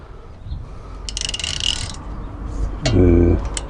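Wheel bolts on a VW Touran tightened by hand during a brake disc and pad job, giving ratcheting mechanical clicks and a metallic ringing clank, close and fairly loud.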